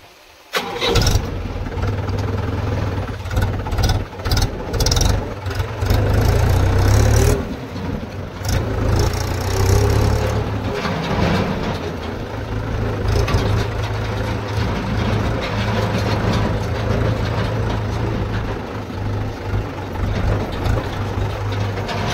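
A Mahindra 475 tractor fitted with cage wheels cranks and fires up, then settles into a loud, steady, throbbing diesel run with occasional revs, close by and with no talking over it.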